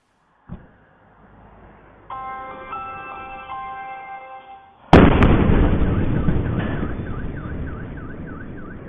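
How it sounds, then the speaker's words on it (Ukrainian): A massive explosion at a strategic plant near Moscow booms suddenly and loudly, followed by a long rumbling roar while a car alarm wails steadily in the background. "а тепер давайте почуємо момент вибуху"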